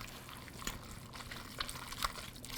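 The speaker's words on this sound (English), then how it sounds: "And then we're gonna go in and just mix that all up really well." Pulled pork being stirred into barbecue sauce gives wet, sloppy squelches and trickling liquid sounds. Faint clicks and splats run throughout, close up and moderately quiet.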